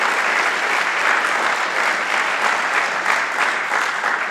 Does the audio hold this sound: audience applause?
yes